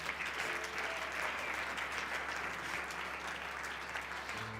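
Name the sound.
congregation applauding and cheering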